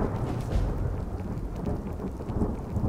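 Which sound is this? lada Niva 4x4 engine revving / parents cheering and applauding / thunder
thunder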